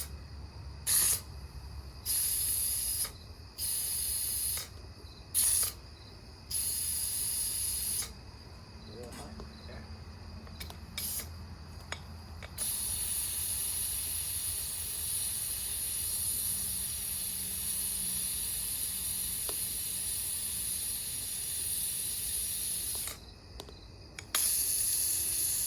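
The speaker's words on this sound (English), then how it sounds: "Let some pressure out here." Pressure escapes from a pot during nighttime outdoor cooking. Bursts of sharp hissing stop and start, then settle into a long steady hiss, with insects faintly audible in the night background.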